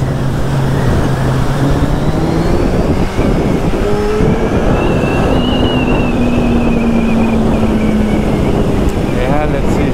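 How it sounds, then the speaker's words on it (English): Trucks pass on a road near Mahabaleshwar during a motorbike ride, their engine tones rising and falling over a loud, constant roar of wind and bike engine. "Too many trucks."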